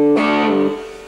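An electric guitar played through a Tub Works Tub Driver distortion pedal strikes one loud, gritty, overdriven chord that rings briefly and then fades.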